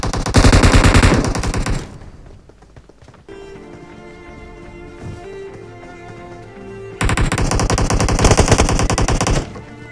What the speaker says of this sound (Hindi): यहाँ पे बंदे काफ़ी दूर से शॉट दे रहे थे